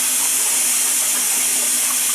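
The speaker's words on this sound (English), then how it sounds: "I like to wash the rice" Rice being washed in water, with a steady loud rush of running water close by, continuous and even throughout, no voices.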